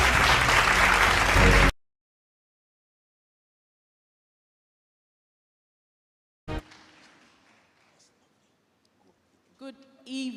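An audience at an evening talk applauds to welcome Rosie Ebe-Arthur onto the stage, a dense burst of clapping that cuts off abruptly after under two seconds, followed by silence and then faint shuffling and clicks.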